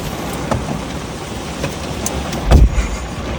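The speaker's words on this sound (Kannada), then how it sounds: "ಜೋರು ಮಳೆ ಗೈಸ್ ಬೆಂಗಳೂರಲ್ಲಿ, ಜೋರ್ ಅಂದ್ರೆ ಜೋರು ಮಳೆ" Steady heavy rain in Bangalore hissing across the whole clip, with a low rumble rising briefly near the end, like thunder or a passing vehicle.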